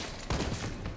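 A few pistol shots ring out in Resident Evil 3, fairly quiet and spaced over a low rumble of game noise, with one sharper report near the start.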